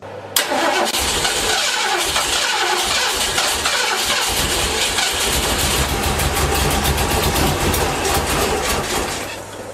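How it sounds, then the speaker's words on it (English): A car engine cranks loudly and steadily for several seconds with a rapid rhythmic grinding churn, close to the listener, failing to start. "Trying to start the car in the morning"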